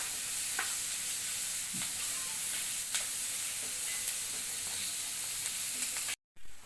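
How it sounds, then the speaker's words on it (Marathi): Onion frying in a pan for corn rice gives a steady sizzle with faint stirring scrapes and no voices, continuous and fairly close until it cuts off near the end. "आता त्याच्यामध्ये हा आपण कांदा टाकून चांगला याला गुलाबी रंगावर परतून घेऊया"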